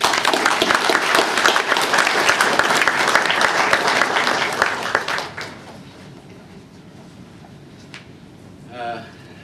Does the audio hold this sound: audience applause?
yes